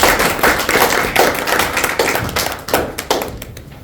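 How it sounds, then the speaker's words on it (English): Audience applause at a Toastmasters club meeting, a dense burst of many hands clapping close by, loud at first and then thinning and tapering off toward the end. "Please give a huge round of applause to Toastmaster."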